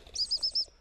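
A game bird flushed by a working spaniel in a beating line calls out in a quick series of four or five sharp, close chirps lasting under a second.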